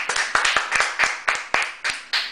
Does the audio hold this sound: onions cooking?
no